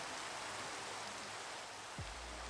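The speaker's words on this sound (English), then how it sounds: "It's raining just right here." Steady rain falls in the Minecraft survival game, a soft continuous hiss of drops without pause or talk.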